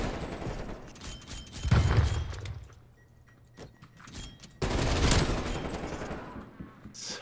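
Gunfire in the shooter game Black Ops Cold War, two loud bursts of rapid shots a few seconds apart with quieter clicks and rattles between them.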